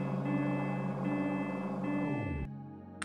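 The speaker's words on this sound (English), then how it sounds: "Sorry for the annoying beeping sound." A steady electronic tone drones for over two seconds and cuts off, followed by quiet and one short high beep near the end.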